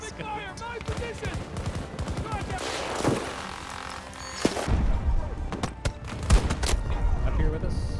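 Battlefield 2042 firefight with rattling automatic gunfire and scattered thuds amid busy game music and effects, shots clustering in the middle and returning as sharp separate cracks near the end.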